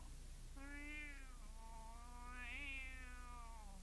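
A white tomcat crouching in the lower boughs of an ash tree gives two long, drawn-out meows, the second rising higher, quiet and alone against a low background hum.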